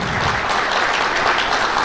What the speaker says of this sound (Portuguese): E agora nós vamos recebê-lo com muito carinho, com muitos aplausos